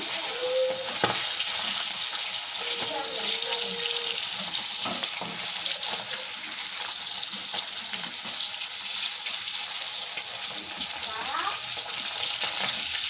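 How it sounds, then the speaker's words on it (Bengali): Oil sizzles and crackles steadily throughout as pabda fish fry in a pan, a constant hiss with occasional faint clinks and a distant voice. "মাছগুলো এবারে তুলে ফেলবো, হয়ে গেছে ভাজা।"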